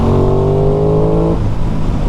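An Aprilia Tuono motorcycle engine revs close by, a loud rising harmonic whine that climbs in pitch, then drops at a gear change into a rougher, lower growl, with no talking.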